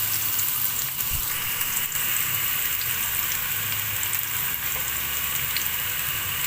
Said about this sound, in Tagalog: igisa na po natin yung chicken feet natin